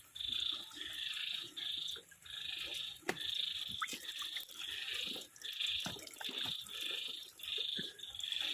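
Frogs in a frog farm pond call in repeated buzzing bursts, each lasting about half a second, at a steady rhythm. Light splashes and water drips come in between, and no one speaks.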